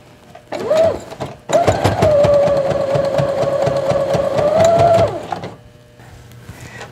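Sewing machine fitted with an edge foot, stitching in the ditch on fabric fairy wing casings: a steady, close motor whir with rapid needle clatter for about three and a half seconds, with shorter bursts of stitching before and after.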